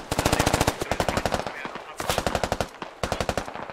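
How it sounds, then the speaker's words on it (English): Machine gun fire in the video game SquadOps: several rapid sustained bursts of loud, close automatic shots, separated by brief pauses. "Razor gets shot by King"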